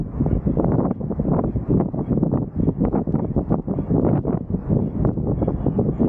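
Strong wind by the sea buffets the microphone in an unbroken, gusty low rumble that swells and dips throughout, with no other clear sound.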